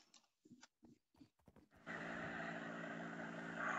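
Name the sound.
horse sounds in a video game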